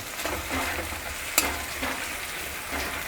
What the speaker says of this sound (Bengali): এটা একটু হালকা ভাজা ভাজা করে নিতে হবে